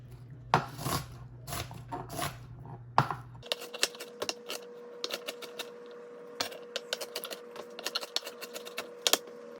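A knife chops onions on a cutting board: light, quiet, irregular clicks and taps, some in quick bursts, with no voices.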